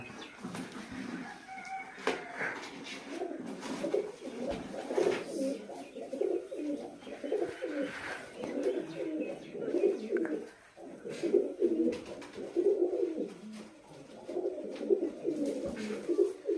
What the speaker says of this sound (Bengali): তিনটে পায়রা রিসিভ করলাম আমি